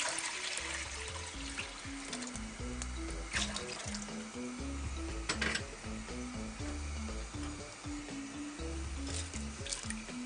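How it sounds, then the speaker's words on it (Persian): Water is poured into a cooking pot to start a wheat soup (ash) with legumes. A steady trickling, splashing stream runs close and continuous for several seconds over a soft rhythmic background. "اول آب رو میریزیم."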